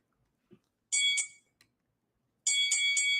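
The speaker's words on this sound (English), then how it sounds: "Let's hit the Rocky Bell for my main man, Shelton Moore, Mr. Moore." A bright bell-ding effect rings out in two bursts, a single chime near the start and a quick double ding later, each sharp and clear against near silence.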